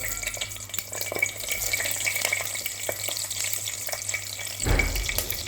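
Peppers fry in olive oil in a pot, giving a steady bubbling sizzle with some clinks and a thud near the end.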